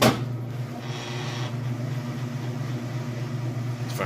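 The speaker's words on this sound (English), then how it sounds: "it is doing its first high spin on the rinse" A Whirlpool top-load washer with a heavy load does its high spin on the rinse cycle, giving a steady whirring drone with a motor hum, continuous and fairly close.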